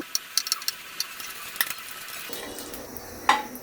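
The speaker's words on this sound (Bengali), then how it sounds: "মরিচগুলো একটু ভেজে নিচ্ছি" Four chillies frying in a little oil in a pan, a faint sizzle under sharp clinks of a utensil against the pan, with a louder sputter and scrape near the end.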